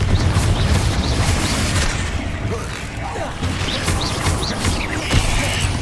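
Confringo blasting spells fire in Hogwarts Legacy on PS5. Repeated booming, crackling blasts land in quick succession, mixed with combat effects and voices.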